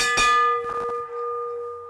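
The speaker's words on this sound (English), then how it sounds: "They're going to hear the bell." A single bright bell rings for the final lap at a track cycling race, one sharp clang followed by a few quick strikes and a long ringing decay.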